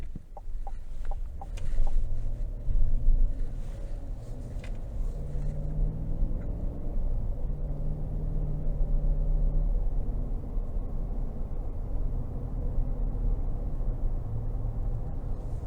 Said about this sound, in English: take this Sierra 1500 Denali out on the road for a quick test drive